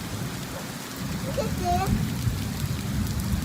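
Heavy rain pours steadily in a park, a dense hiss and patter on surfaces with a low thunder rumble mixed in. A voice speaks briefly over the downpour.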